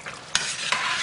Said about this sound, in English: I have been adding water to it every time I stir it